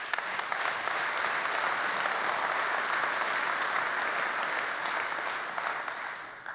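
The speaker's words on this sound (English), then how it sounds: "So maybe we could give them a round of applause." Sustained audience applause at a 2015 corporate VIP congress, dense steady clapping from a large crowd that holds evenly for several seconds, then tapers slightly at the end, with no talk over it.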